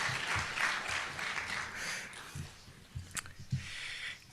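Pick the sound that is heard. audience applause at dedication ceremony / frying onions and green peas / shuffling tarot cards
audience applause at dedication ceremony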